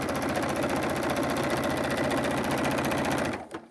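A sewing machine quilting a fabric zipper pouch, stitching in a fast, even mechanical chatter up close for a few seconds before stopping abruptly near the end.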